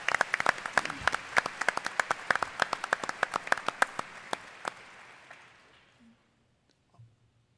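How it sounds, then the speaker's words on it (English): A conference audience gives a round of applause, sharp claps close and distinct at first, thinning out and fading away to near silence, with a faint murmur at the end. "Could we get a round of applause for the work they've done?"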